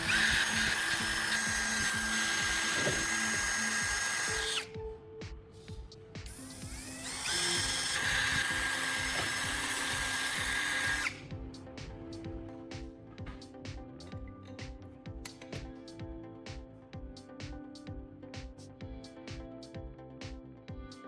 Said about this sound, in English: I used a drill to precisely bore out the holes for the rivets